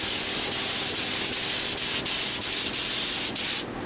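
Finish is sprayed onto a handbuilt Telecaster guitar in a workshop, a loud steady hiss broken into short bursts by about eight brief pauses that end in a fade near the close.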